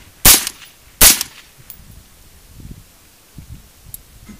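Two suppressed shots from a 5.56 M4 rifle with a 16-inch barrel and a Mod 08 suppressor on the regular setting, each a sharp muffled crack about a second apart, followed by faint rustling and handling noises.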